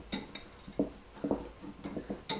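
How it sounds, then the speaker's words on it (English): A whisk stirs cornmeal, flour, baking powder and salt in a bowl, giving quiet, irregular clinks and taps against the bowl at close range. "just use a whisk to kind of mix those around a bit"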